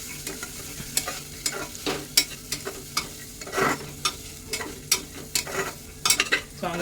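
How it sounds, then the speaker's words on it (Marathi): A spoon stirs ghevda bhaji, a homemade flat bean curry, in a pan. The sounds are repeated scraping strokes in an irregular rhythm over a soft sizzle, close by and moderately loud, with no talk. "परत एकदा ढवळून घेऊ."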